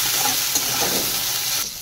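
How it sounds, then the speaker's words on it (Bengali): Chopped tomatoes go into hot oil over fried onion and ginger-garlic paste for a tarka, giving a loud, close, continuous sizzle and hiss with some stirring that eases toward the end. "তেল ছেড়েছে। এবারে দেবো টমেটো।"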